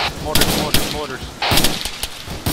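Mortar fire in ARMA 3, a few sharp gunfire-like blasts and thumps in quick succession, loud and close, mixed with a voice speaking over the shots.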